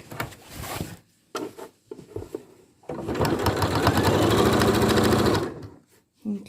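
Sewing machine stitching a hospital overgown, with short bursts of needle clatter followed by one sustained run of rapid, close stitching that stops abruptly.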